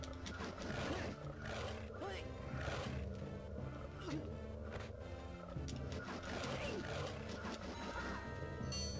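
Snarling, roaring beasts in The Hobbit on Game Boy Advance, wolves or mountain lions, growl repeatedly over busy game music and effects, loud and steady across the whole span.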